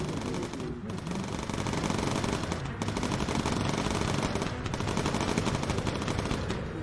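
Sustained machine-gun fire from bomber gunners in the video game Bomber Crew, a loud, continuous rapid rattle lasting throughout with only brief dips.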